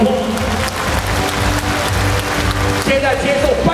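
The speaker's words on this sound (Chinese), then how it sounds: "给你自己掌声鼓励" Audience clapping at an award ceremony in a large arena, sustained dense applause from a big crowd while an announcer keeps speaking over it.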